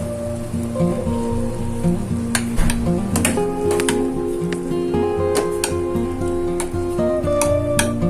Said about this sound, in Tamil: சர்க்கரை நல்லா கொதிக்குது.